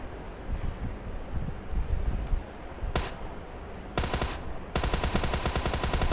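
Automatic gunfire from PUBG Mobile zombie mode, with loud rapid bursts that break into dense, sustained rattling fire toward the end over a noisy background.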